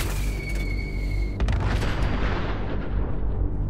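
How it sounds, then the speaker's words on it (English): A nuclear explosion in the video game Fallout 4 lands as a deep, heavy boom that swells into a long rumbling roar, fading gradually as it rolls on. "3 best nuclear explosions I've witnessed"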